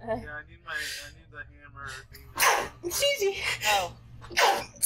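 A sharp sneeze and a few gasping, sneezy bursts break through casual conversation between people playing a game together, loud and close.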